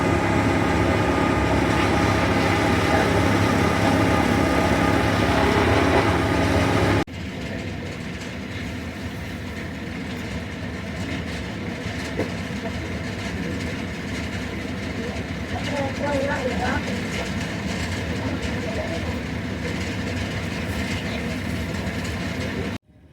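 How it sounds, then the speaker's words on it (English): Small wood chipper shredding queen palm trimmings outdoors, a loud, dense, steady grinding roar that is heaviest for the first seven seconds, then drops to a lower continuous churning drone with mechanical rattles until it cuts off. "This is going to be very loud. This is a little wood chipper action."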